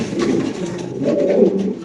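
A racing pigeon coos nearby in low, throaty, rolling murmurs, two soft phrases back to back.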